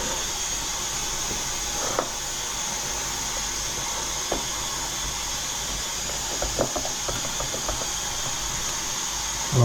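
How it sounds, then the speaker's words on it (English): A pressure cooker lets off steam in a continuous loud hiss that holds steady throughout, with a few faint clicks and knocks underneath. "the pressure has been released. I can open the pressure cooker now"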